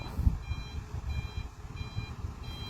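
A ten-wheel dump truck backing up slowly near an excavator at a Chanthaburi site gives a regular series of high reversing beeps over a low, rumbling engine.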